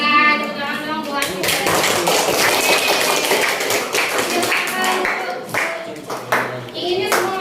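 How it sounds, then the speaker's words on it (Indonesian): Students in a mathematics classroom clap together in a sustained burst of applause, loud and close, with children's voices mixed in and a few scattered claps near the end. "tepuk tangan dong"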